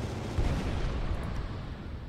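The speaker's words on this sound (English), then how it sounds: "Kinetic guns." Kinetic guns fire in the space game Final Theory, a steady, dense roar of heavy rapid shots blending into a continuous rumbling barrage, loud and close with no talking.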